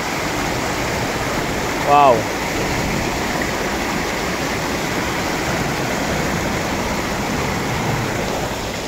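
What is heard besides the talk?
strong flowing water of a stream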